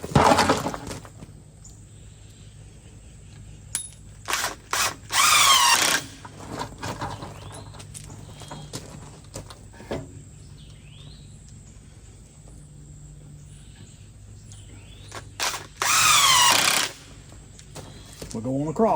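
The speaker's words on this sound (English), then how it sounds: "So my other favorite thing is a little impact driver" A small impact driver drives screws into a wooden nesting box, giving a few short loud rattling bursts with clicks and knocks of handling in between, recorded close up with no speech over it.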